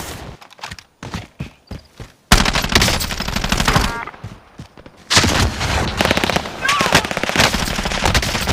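Video game gunfire: rapid automatic bursts, loud and close, first in short broken volleys and then in long sustained strings.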